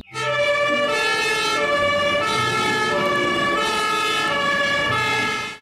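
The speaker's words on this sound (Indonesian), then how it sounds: "di sini juga ada mobil pemadam kebakaran" A toy fire truck siren wails steadily in a rising and falling electronic tone, loud and close, running continuously without pause.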